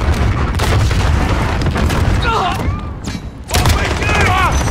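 Gunfire in a capture-the-flag video game match, dense bursts of shots and booms filling most of the stretch, with a brief lull before firing resumes.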